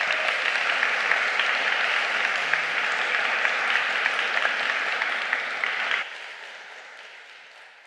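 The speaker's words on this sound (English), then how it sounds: "Let's applaud." An audience at a talk on surveillance and privacy applauds after a speaker finishes, sustained even applause that holds steady, then drops abruptly and fades out.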